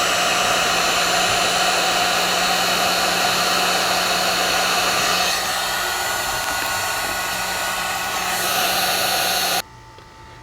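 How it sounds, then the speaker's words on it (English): A heat gun blows a loud, steady, hissing roar while shrinking heat shrink tubing on wires during a ham radio install in a 2019 Chevy Volt, easing slightly midway before cutting off near the end. "now we'll just hit them with some heat and set the heat shrink compound"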